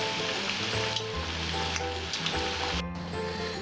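Potato pakoras sizzle steadily in hot oil, a dense, continuous crackling fry close to the pan, with low kitchen hum and slight stirring beneath, and no voices.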